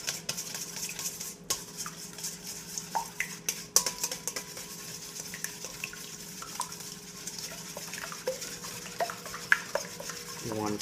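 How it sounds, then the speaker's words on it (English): A utensil slowly stirs condensed milk and eggs in a bowl for leche flan, soft continuous swirling with scattered light clinks against the dish, close and fairly quiet. "you're going to want to mix your condensed milk and your eggs together very slowly"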